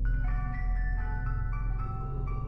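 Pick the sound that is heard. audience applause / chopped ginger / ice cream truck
ice cream truck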